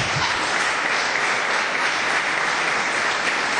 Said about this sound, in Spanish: Fuerte el aplauso para Meites